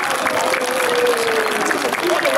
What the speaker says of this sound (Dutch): ik vind dat de kinderen nu een heel groot applaus moeten geven voor jullie mensen